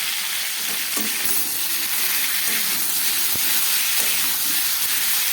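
Fish frying in a pan with salt, turmeric and ginger paste, giving a steady, close sizzle and hiss with faint stirring scrapes throughout, no voices.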